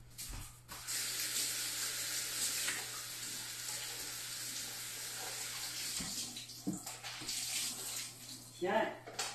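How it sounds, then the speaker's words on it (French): Tap water runs steadily in a kitchen sink as a dishcloth is rinsed, a continuous close splashing hiss with a few thuds and handling noises, while a person talks faintly in the background. "Je vais aller rincer aussi ma guenille."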